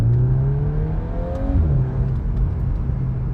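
A 2024 VW Golf 8 R without the Akrapovic exhaust, its muted engine and exhaust droning steadily with a low hum and a slight rise in revs midway, heard close with no talking.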